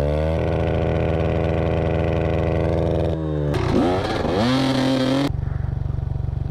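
A dirt bike, a Honda CRF 110 or SSR 125, revs on a sandy trail at an off-highway vehicle park: a steady loud idle-like drone, then a surging rev that rises and falls before settling back, close by.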